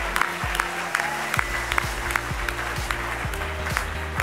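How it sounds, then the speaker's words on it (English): Audience applauds Melanie Jaffe at the International Wine Challenge 2017 awards event, a sustained crowd clap over a low steady hum, even and continuous throughout with no talking. "Give her a big round of applause and tell her how much we appreciate the wine show."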